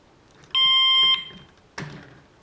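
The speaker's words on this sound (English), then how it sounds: "Yeah, we got a beep at least." An STI-6400 Exit Stopper door alarm gives a single loud electronic beep of about half a second on power-up, followed by a brief click or knock in a quiet room.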